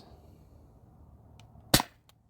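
A Sabre 68 home defense launcher fires a single 3.6 gram nylon ball, one sharp close pop with a short decay after a quiet lead-in.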